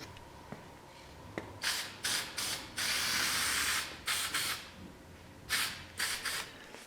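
Short bursts of hissing from an aerosol spray paint can that is spraying poorly, some brief and one held longer, separated by quiet gaps and faint clicks, while painting a 1937 Chevy truck door skin.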